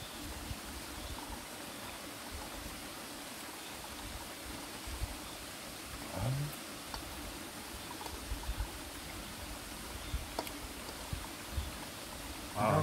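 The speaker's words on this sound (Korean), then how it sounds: "이 물소리. 아니, 자연의 소리." Steady rushing water from a valley stream flows continuously, an even broadband wash with a few faint knocks and clicks, no voices.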